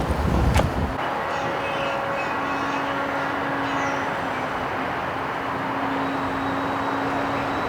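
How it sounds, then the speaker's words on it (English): Train at Pullen Park in Raleigh during the Holiday Express event, a steady rumbling with a sustained whistle-like tone, heard from a moderate distance after a brief thump at the start. "There's the train right down there."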